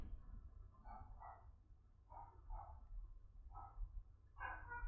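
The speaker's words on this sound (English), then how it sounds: "Dogs are barking for some reason" Dogs bark in short repeated bursts, faint and far off, over a steady low rumble.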